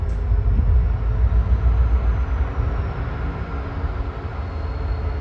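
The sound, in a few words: locomotives switching rail cars at Union Pacific yard, Roseville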